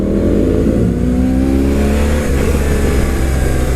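Steady, loud engine drone from a BMW R1100RT sport-touring motorcycle with shaft drive, humming continuously while the bike is ridden, with constant wind and road noise.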